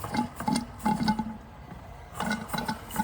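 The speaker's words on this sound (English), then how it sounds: "Hear the condensation in the chimney." Condensation gurgles and sputters in the chimney of a Bing 10/110 steam engine with a poppet valve, coming as irregular wet bubbling pulses close up, quiet and without talk.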